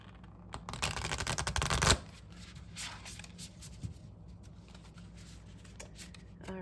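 Moonology Oracle cards being shuffled by hand before one is drawn, a crisp riffling burst for about a second followed by softer taps and card handling, close and quiet.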